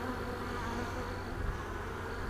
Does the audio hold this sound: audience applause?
no